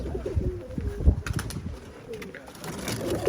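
Pigeons coo in low, throaty repeated calls close by, mixed with soft rustling and shuffling in the background.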